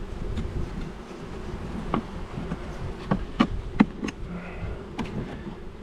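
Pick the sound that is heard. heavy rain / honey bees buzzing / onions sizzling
honey bees buzzing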